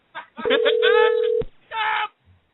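A telephone dial tone sounds as a steady held tone for about a second while someone calls upstairs on a home phone, with talking before and after it.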